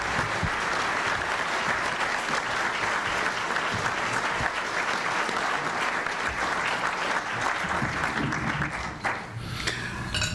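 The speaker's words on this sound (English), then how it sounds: "some of this applause I'm getting is age" Sustained applause fills the room at a National Press Club luncheon, a dense, even roar of many hands clapping that continues for about ten seconds before tapering off.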